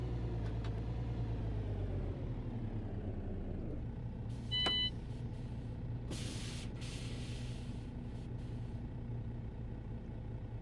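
A Scania truck engine idles steadily in a truck driving video game, a low continuous rumble close by that holds throughout, with a brief hiss partway through and no talking.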